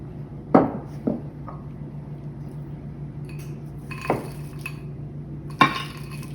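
Frozen corn and green beans are spread across a baking pan, making a few scattered clinks and scrapes of a utensil against the pan over a steady low hum.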